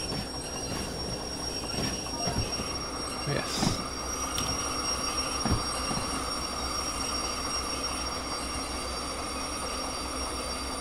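A train runs in a train-driving video game, with a continuous rail rumble, squealing wheels and scattered clanks at a moderate, even level, with no talk.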